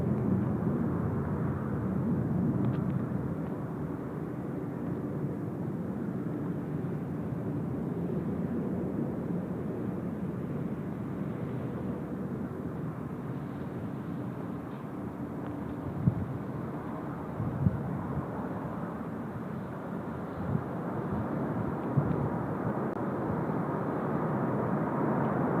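A heavy airliner on its takeoff roll down runway 34 right at Seoul Incheon Airport, heard as a steady, broad engine roar and rumble that holds for the whole stretch, with wind buffeting the microphone.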